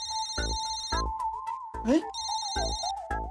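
A telephone rings in a household, repeated electronic ring bursts in a steady pattern, while a person talks over it in between rings.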